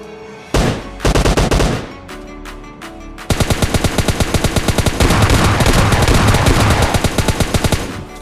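Gunfire from an M416 rifle and an S12 shotgun in PUBG Mobile Lite, a few loud separated blasts followed by long rapid automatic bursts with sharp, evenly spaced shots, close and dominant with no talk.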